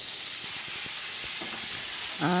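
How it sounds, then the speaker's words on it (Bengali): Potato, eggplant and onion are dropped into hot oil in a black iron kadai and fry with a close, steady sizzle and hiss, broken by a few light clinks and a sharper splash at the end. "তো আমি এখানে ছেড়ে দিচ্ছি কড়াইতে তোমার সবজিগুলো"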